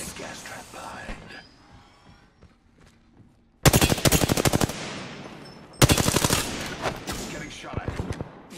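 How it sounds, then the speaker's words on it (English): Video game gunfire from the character Caustic: after a soft opening with a faint voice, two loud, close bursts of rapid automatic shots rattle out, each fading into a trailing echo. "Getting shot at."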